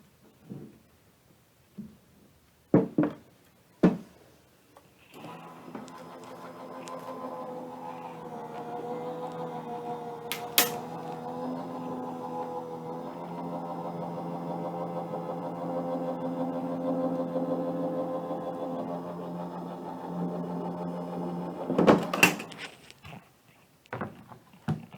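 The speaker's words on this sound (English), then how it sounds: "So I'm just going to run that through my die cutting machine." A die cutting machine runs cardstock through to cut out snowman shapes, giving a steady mechanical hum and rumble for about seventeen seconds, framed by a few sharp clicks and clacks of the plates before and after.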